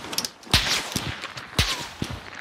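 Gunfire in a multiplayer shooter match: two sharp, loud shot bursts about a second apart, each followed by quicker smaller cracks, with no talk.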